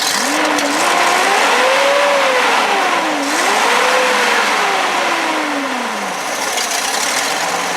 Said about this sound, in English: Well, there's the backfiring.